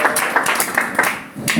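An audience at a doctrine training session claps to welcome pastor Son Jae-ik, with the clapping mixed with voices and fairly close.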